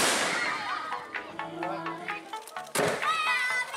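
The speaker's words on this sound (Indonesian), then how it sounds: "Mereka memainkan permainan tradisional meriam bambu atau biasa disebut dengan mercon bumbung." Children at a village boarding school in Batu, East Java, firing bamboo cannons: a loud boom opens, then scattered thumps and a second sharp blast, with children's voices and chatter throughout.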